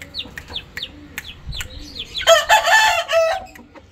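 A rooster crows loudly and close by in a backyard hen and rooster setup, the long cry following several short chirps and clucks from the flock.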